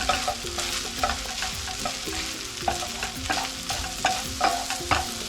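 King crab fried rice is stir-fried in a hot pan with shallot, sizzling continuously close up while a spatula scrapes and clacks against the metal in quick irregular strokes.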